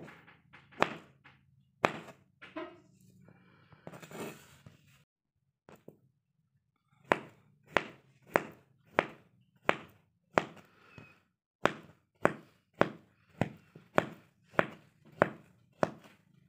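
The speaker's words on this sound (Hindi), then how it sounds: "सारे फ्रूट्स हमने काट लिए हैं।" A knife chops fresh fruit such as guava, melon, banana and apple on a board: irregular knocks at first, then a steady run of sharp, evenly spaced chops, close and fairly quiet.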